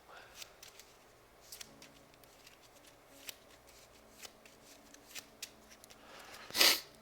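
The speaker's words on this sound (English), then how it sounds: "we gotta shuffle the tarot cards too" A deck of tarot cards is shuffled during a tabletop board game, soft papery riffles and taps spread across the stretch, ending in a sharper burst of card flutter, quiet with no talk.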